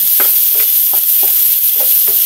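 Pork fries in a pan previously used for frying catfish, giving a loud, constant sizzling hiss with rhythmic stirring scrapes every fraction of a second, close up and without talk.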